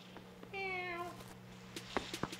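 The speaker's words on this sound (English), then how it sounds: "Look at the kitty!" A cat meows once in Animal Crossing City Folk, a single clear, drawn-out meow near the start, followed by soft clicks and faint background noise.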